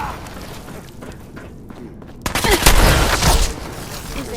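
Gunfire in the Fallout 4 video game on PS4 erupts as a burst of loud, dense shots after a quieter stretch, holding for about a second before easing back under low ambient game sound.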